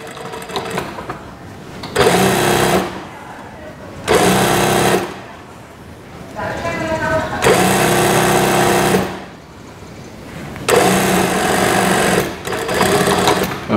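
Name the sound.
sewing machine restitching the crotch seam of shorts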